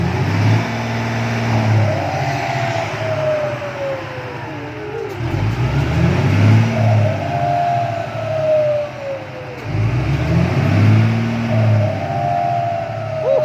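A modified Isuzu 360 ten-wheel truck engine revs repeatedly, its turbo whistling and spooling up with each rise, loud and close, over a deep diesel rumble.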